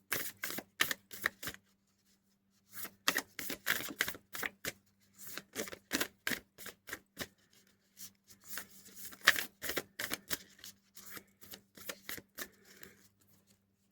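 A deck of cards is shuffled by hand in quick bursts of crisp, papery riffles and flicks, separated by short silences.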